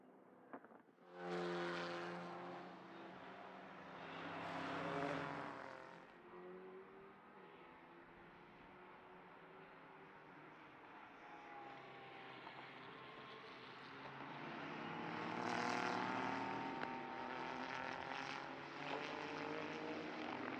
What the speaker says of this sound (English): The Renault, though, as you can hear, making a brilliant racket everywhere it goes